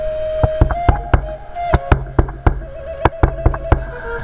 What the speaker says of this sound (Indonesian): Pak Kades mengetuk beberapa kali pintu rumah itu